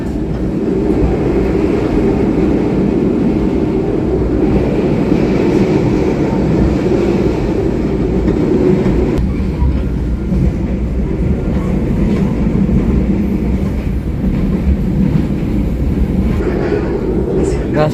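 The Wijayakusuma passenger train rolls toward Banyuwangi Kota station, giving a continuous loud low rumble and rail noise from inside the carriage that lasts throughout.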